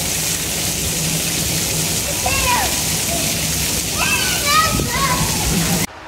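Splashing and sloshing water fills an outdoor water playground in Singapore, a constant close wash of spray with children's voices and an adult speaking over it.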